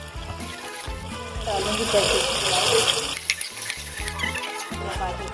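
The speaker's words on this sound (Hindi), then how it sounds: "डालूँगी फटाफट चिकन" Chicken hits a hot pan and starts frying, a rising hiss and sizzle with stirring noises, under a voice in a home kitchen.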